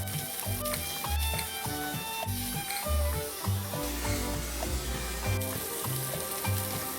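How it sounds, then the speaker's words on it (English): Sun-dried tomatoes and Calabrian chilies sizzle in olive oil in a pan, a steady frying hiss running beneath rhythmic background music with a thumping beat. "We're gonna add our sun-dried tomatoes to that, our Calabrian chilies if you like to use them"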